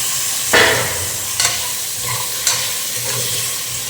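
Potatoes and onions frying in a pan for beef biryani, a steady close sizzle broken by a few scraping stirs at irregular intervals, with no voices.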